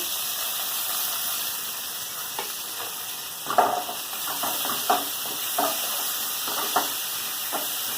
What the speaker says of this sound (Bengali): অল্প একটু পাঁচ ফোড়ন, পেঁয়াজ দিয়ে দেবো।